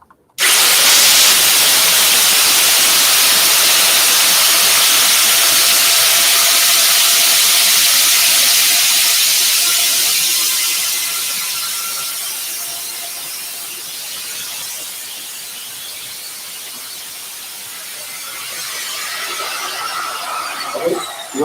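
An electric router spinning up to full speed, a loud steady high-pitched whine with a strong hiss that eases slightly partway through and runs continuously.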